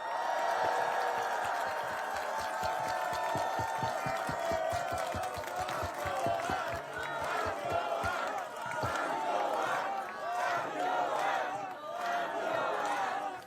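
A crowd at a press conference applauds with rapid, dense clapping that carries on steadily, joined by scattered cheers and voices in a large space.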